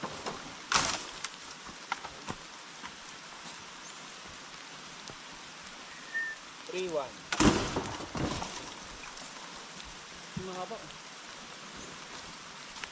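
Rain falls steadily on a farm plot being cleared for chili planting, a soft even patter with a few louder knocks and clatters, while someone speaks briefly over it.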